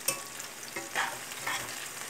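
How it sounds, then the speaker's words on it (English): Onions caramelizing in a cast iron pan give a soft, quiet sizzle broken by a few brief stirring scrapes, with no voices. "we're getting a nice caramelization on them onions, aren't we?"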